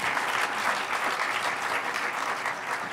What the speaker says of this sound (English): A round of applause for all the presenters who came in under time.